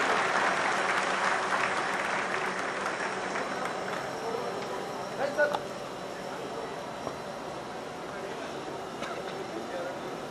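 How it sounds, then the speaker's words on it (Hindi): Audience applause for soldiers at an award ceremony, a crowd clapping strongly at first and then thinning to scattered, quieter claps as it goes on. "तालियां जरूर बजाइए"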